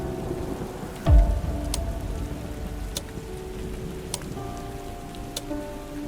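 Steady rain falls through a stormy night while a deep thunder crack lands early, then fades into a low rumble. Faint drip and tap accents sound over the continuous wash, with no voices.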